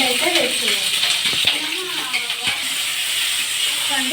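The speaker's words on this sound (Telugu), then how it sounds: "ఇలా ఫ్రై చేసుకోవాలి" Dried red chillies frying in hot oil in a pan while preparing a Telugu fish curry, giving a steady broad sizzling hiss throughout with a few light clinks, and someone talking over it.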